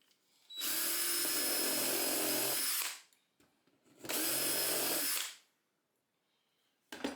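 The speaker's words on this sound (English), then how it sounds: "Glue and screw the parts together." A power drill drives screws into 2x4 lumber for a plant stand, two long steady whirring bursts of about two and a half seconds each, close and loud, with a brief start of a third at the end.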